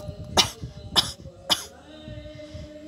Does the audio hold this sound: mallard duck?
no